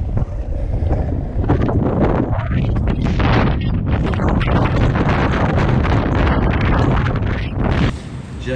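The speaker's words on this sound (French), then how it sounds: "Mais ça a l'air déjà de bien souffler." Strong gusting wind buffets the microphone at a kitesurfing spot, a loud continuous rumble and roar for the whole stretch with no talk.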